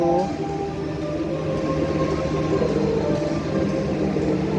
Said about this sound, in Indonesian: Kita masuk jalur 3 KA Kaligung dari Tegal atau Brebes menuju Senayan Semarang Poncol.